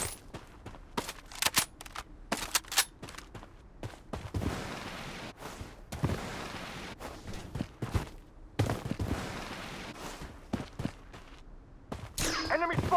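Gunfire in the shooter game Blood Strike: bursts of sharp shots and rapid volleys crack repeatedly over a hissing battle background, some close and loud, others more distant.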